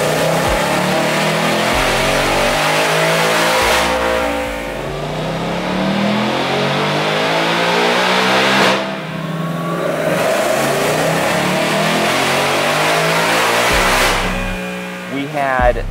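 A supercharged 2024 Mustang engine running 87 fuel revs hard and loud on a dyno through repeated long pulls, its roar climbing in pitch, then dropping off before surging again.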